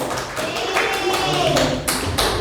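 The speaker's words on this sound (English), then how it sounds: "Give applause, guys." A classroom of students applauds, a brief burst of loud, close clapping lasting a couple of seconds with a voice heard over it.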